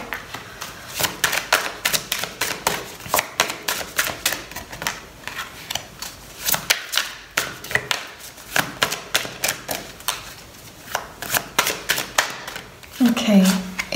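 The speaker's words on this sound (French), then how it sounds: "je vais tirer les 3 cartes qui vont pouvoir répondre au plus grand nombre avec ce tirage" Oracle cards being shuffled and drawn from a deck during a full moon reading, a long run of close, crisp rapid clicks and flicks in uneven bursts, with a brief rustle near the end.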